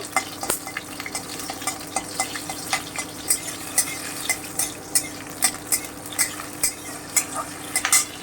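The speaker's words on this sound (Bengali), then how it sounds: "কাঁচা লঙ্কাটা একটুখানি চিড়ে নিয়েছি আমি হালকা করে একটু ভেজে নেব" Split green chillies lightly frying with garlic in a pan, regular scraping stirs over a steady sizzle, close up with occasional utensil clinks.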